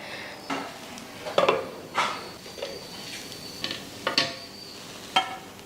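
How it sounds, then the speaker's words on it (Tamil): Dosa batter and then oil or ghee go onto a hot pan, bringing a soft sizzle with scattered metallic clinks and scraping of a utensil, close and fairly loud with no speech. "நல்லா சாஃப்டாக அப்படியே மாவை ஊற்றி அப்படியே மேலே எண்ணெய் நெய் உங்களுக்கு என்ன வேணுமோ அதை ஊற்றிக்கோங்க"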